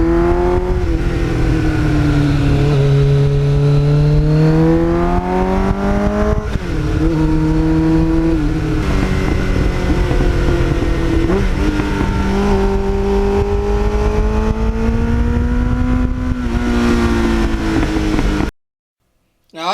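A 1989 Kawasaki GPX750R motorcycle engine running through an aftermarket muffler, a steady moderately loud drone that rises and falls in pitch with several revs, heard alone before cutting out near the end.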